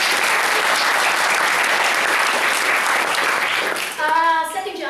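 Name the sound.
applause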